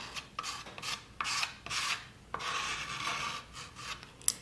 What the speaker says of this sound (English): Just pushing that paint so I can get it through all of the screened areas.